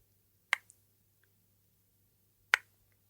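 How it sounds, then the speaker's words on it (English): Two sharp, isolated clicks from a tree taking up water, about two seconds apart, crisp and close, with faint ticks in between over near silence. "sometimes you hear the clicking noise."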